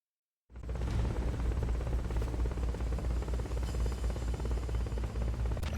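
Helicopter in the video game Metal Gear Solid: Peace Walker, starting abruptly after a brief silence and then holding a steady, dense rotor thrum with a continuous buzzing drone, fairly loud and unbroken, with no talking.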